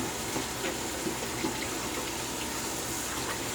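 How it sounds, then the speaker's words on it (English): Tap water runs steadily while a shaving brush is rinsed under it. The splash is continuous, moderate in level and fairly close, with no talk. "Rinse the brush here."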